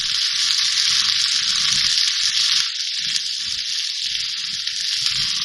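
Onion and whole garam masala fry in hot oil for a dhaba-style chicken curry, giving a steady, loud, close sizzle throughout with light stirring underneath.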